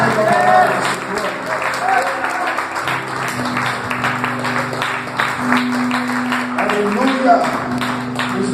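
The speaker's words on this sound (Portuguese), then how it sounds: "dê uma salva de palmas para a palavra do Senhor" Church congregation applauding the reading of the Word during a worship service, a steady wash of clapping that runs the whole time beneath a speaking voice and low sustained musical tones.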